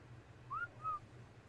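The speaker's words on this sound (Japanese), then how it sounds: "なんか口笛吹く聞こえてきたな" Someone whistles two short, soft rising-then-falling notes, faint against a low steady hum in a quiet room.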